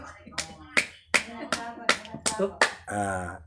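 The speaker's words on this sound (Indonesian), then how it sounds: "tepuk tangan 5 kali" A quick series of sharp, close hand claps, around six or seven in a row at an uneven pace, ending in a short voiced sound.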